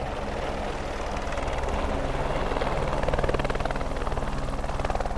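A helicopter thrums loudly and steadily nearby on Mont Blanc, its rotor chop growing slightly stronger toward the end.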